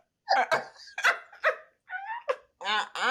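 A dog sends out a string of short yips and barks mixed with high whimpers, close and fairly loud, in uneven bursts separated by brief pauses.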